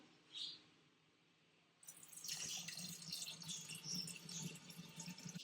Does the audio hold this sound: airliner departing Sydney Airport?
no